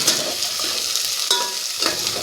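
Onion, carrot, capsicum and peas stir-fry in a hot pan for fried rice, with a steady close sizzle broken by a few scraping stirs of the spatula.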